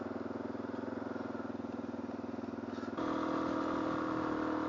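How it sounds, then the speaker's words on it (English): A motorcycle engine idles with a rhythmic, pulsing chug while its throttle cable is worked, then revs up to a steadier, higher and slightly louder drone partway through. "Just playing around with the throttle cable here and seeing if by chance there's a mechanical issue."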